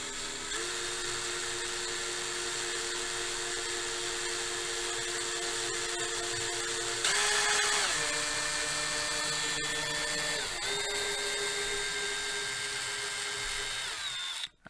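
A drill whines continuously at high speed, its pitch dipping and recovering a few times as it bites into a wooden Kalamazoo guitar neck, loud and close.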